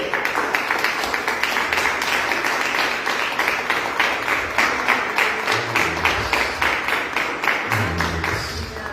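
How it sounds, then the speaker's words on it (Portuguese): Congregation applauding during a Pentecostal church service, a steady dense clapping that fills the whole stretch at fairly even loudness, with low murmuring tones underneath. "Dê um aplauso ao Senhor"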